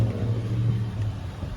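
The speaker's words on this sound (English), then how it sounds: "The engine's still coming up to temp." A semi truck engine idling while warming up after a two-day drive, a steady low droning rumble with a constant hum, loud and close, with nobody speaking.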